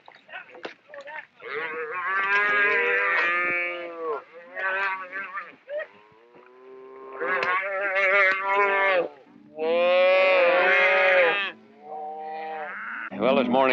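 Cattle held in a ranch corral for branding, bellowing in a series of loud, drawn-out moos, several overlapping calls close by with short pauses between them.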